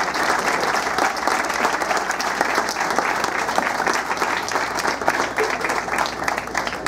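Strong, continuous applause from a large audience at a symphonic band concert in Mexico, dense clapping at steady loudness throughout.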